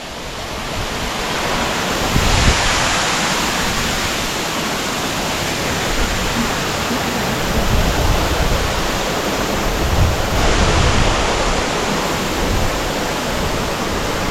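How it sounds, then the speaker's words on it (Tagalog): Dayhag Falls in Upper Bisiril, Boljoon, Cebu pours in a loud, continuous broadband roar of falling water, steady and close throughout with slight swells, no voices. "Welcome to Dayhag Falls in Upper Bisiril"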